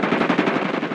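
Automatic gunfire in the mobile shooter Call of Duty Mobile, a rapid burst of closely spaced shots fired without a break, loud and near.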